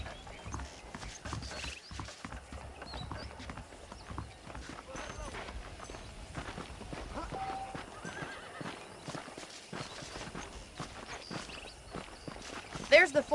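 In Red Dead Redemption, horse hooves clip-clop at a steady walk with an occasional whinny, close and clear beneath ongoing male speech.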